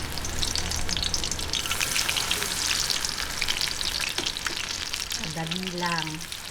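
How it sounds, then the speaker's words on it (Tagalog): Baby shrimp okoy fritters fry in hot oil with a loud, steady crackling sizzle that continues throughout, while a few faint tonal sounds rise briefly near the end. "Ngayon po, umpisahan na po natin yung pagpiprito."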